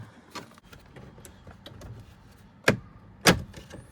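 Plastic dashboard trim on a 2016-or-later Mercedes GLC300 being pried loose gives scattered clicks and two sharper snaps as clips release, close up and without talk.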